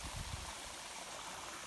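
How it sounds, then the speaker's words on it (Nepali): A cold mountain stream flowing along a hiking trail, a steady broadband rush of running water, moderately faint and continuous with no voices over it. "शीतल चिसो खोला बगिरहेको छ यहाँ"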